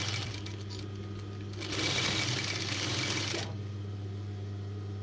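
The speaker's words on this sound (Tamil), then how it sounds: "கரெக்டாக பாருங்கள் நான் எப்படி தையல் போடுறேன் அப்படிங்கிறது" Stitching a baby girl's shirt, a sewing machine whirs in a loud, fast burst in the middle of the clip, set against a constant low hum, and no one speaks.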